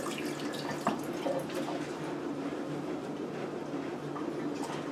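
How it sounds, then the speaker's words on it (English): Tap water runs steadily into a kitchen sink as hands are rinsed in a home kitchen, a soft continuous splashing hiss with faint bumps, close and quiet, no talk. "Just going to give my hands a quick rinse here"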